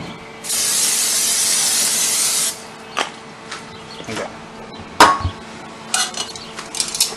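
Cooking spray hisses onto shish kebab meat before grilling in one loud, steady burst of about two seconds, followed by scattered clanks and taps of pans and utensils.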